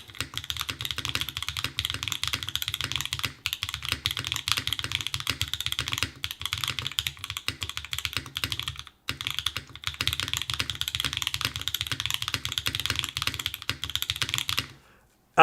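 Typing on a Float65 mechanical keyboard without a keyboard mat, a steady, close stream of crisp key clacks with a short pause midway, ending abruptly.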